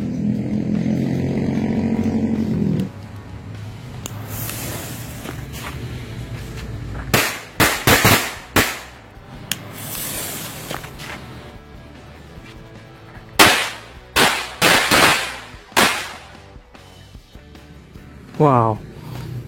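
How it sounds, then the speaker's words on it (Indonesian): A steady hiss and buzz from an Aladin smoke firecracker gives way to a string of sharp firecracker bangs and crackles, loud and close, in irregular bursts. "kita nyalakan mercon Smoke 1 asap Aladin"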